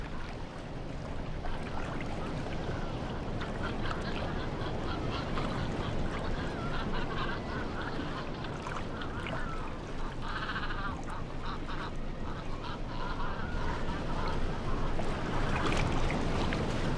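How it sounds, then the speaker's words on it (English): Young cormorants squabble over freshly caught sardines along the Omani coast, a dense, continuous din of harsh honking and croaking calls from a crowded flock, loud and steady throughout with water and wind noise beneath. "The young cormorants quarrel over the catch."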